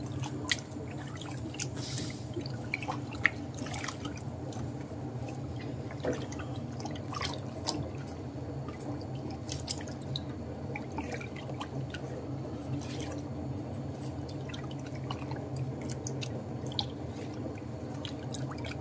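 Water drains and drips steadily from a soft-serve ice cream machine during its cleaning cycle, a soft continuous trickle with scattered drops close by and no talking.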